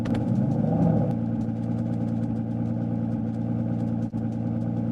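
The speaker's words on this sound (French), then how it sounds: "Mais c'est incroyable ce moteur." A car engine in Minecraft drones steadily with a low humming tone, loud and continuous for the whole stretch, with no clear rise in revs.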